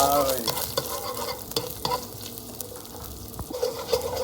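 Garlic stir-frying in a hot wok with vegetables for a Thai tamarind cockle dish, a steady sizzle broken by sharp scraping clicks of the spatula, close and moderately loud with no voices.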